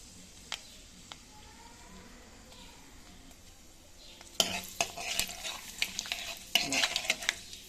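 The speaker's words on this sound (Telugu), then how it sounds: "కాసిన్ని ఎక్కువ మెంతులు అంటే ఒక స్పూన్లు వేసుకొని సిమ్లోనే మంచి రంగు వచ్చే వరకు వేయించుకోవాలి." Fenugreek seeds frying in hot oil in a pan, first a quiet faint sizzle with occasional small clicks, then a spoon stirring and scraping through them with sharper, louder clinks and hiss near the end.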